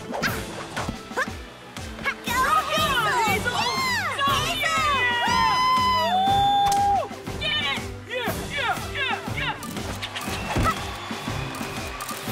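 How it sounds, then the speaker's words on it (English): Cartoon hamsters cheer at a gymnastics competition in a stream of high, squeaky, chirping cries over a crowd-like din, loud and close with voices mixed in, some calls sliding up and down in pitch. "Even gymnastics cheering hamsters."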